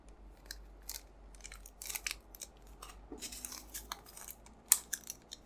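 Scissors snip thread while a beaded cross stitch kit is prepared, a run of crisp close cuts and small rustles in irregular rhythm, quiet and with no talking.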